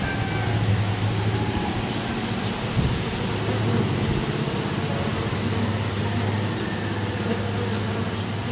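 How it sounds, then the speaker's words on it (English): Honeybees hum continuously close to their hives on a terrace, a dense, steady drone with no talking. "we'll have a wee look close up at the bees."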